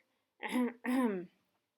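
Two quick, close coughs, one right after the other, with nothing else around them.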